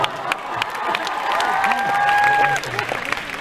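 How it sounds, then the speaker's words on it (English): A press conference audience for The Amazing Spider-Man 2 breaks into loud, close applause with cheers and a sustained shout rising through the middle, then thins to scattered claps. "But give a round of applause."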